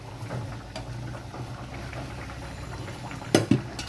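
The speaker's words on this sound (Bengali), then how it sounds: "এবার আমি ডিমগুলো এতে দিয়ে দেব।" Eggs go into a pot of simmering boiled gathi taro curry: a steady low bubbling burble runs throughout, broken near the end by two quick, sharp knocks and plops as the eggs drop in.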